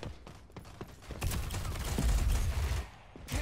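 Gunfire in the video game Rogue Company, rapid popping shots and clatter building into a sustained burst at moderate loudness, with sharp mechanical clicks at the start and end.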